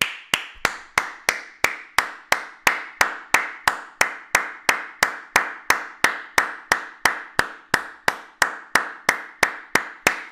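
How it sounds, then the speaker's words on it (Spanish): Steady hand clapping, about three claps per second, loud and close, repeated evenly for ten seconds with no other sound. "Aplauso a Silva"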